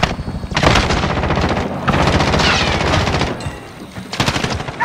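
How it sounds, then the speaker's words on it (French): Rapid automatic gunfire from the video game Call of Duty: Modern Warfare rattles in dense, loud bursts nearly throughout, with short gaps between volleys and a last flurry of separate shots. "On me tire dessus."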